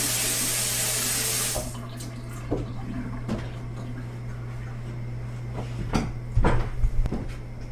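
A tap runs loudly for a moment and then stops, followed by soft wet handling sounds and occasional knocks as hands are washed at a sink.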